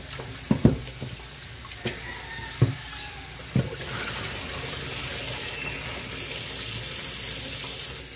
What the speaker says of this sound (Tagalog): Mag-drain lang ang tubig niya.